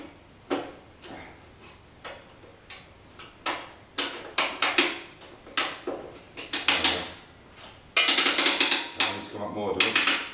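A metal latch on a home-made lifting gantry holding a 1967 Jaguar E-Type shell clicks and clacks repeatedly in uneven bursts, with sharp metallic snaps and a denser rattle near the end.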